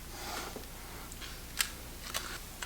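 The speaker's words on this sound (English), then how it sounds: "Let's take the lens off." A few small, sharp mechanical clicks from a Kiev 4 rangefinder camera as its lens is taken off, spaced apart against a quiet, hissy background with no talk.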